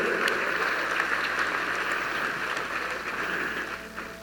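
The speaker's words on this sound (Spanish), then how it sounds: "Denle un aplauso a estos amigos en esta mañana" A church audience applauds for a morning sermon, a dense, even patter of many hands clapping that holds steady and tapers slightly toward the end.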